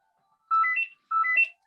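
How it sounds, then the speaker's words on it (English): A mobile phone ringtone chirps twice in short electronic bursts, clear and close against silence. "oh, sorry, phone's just going."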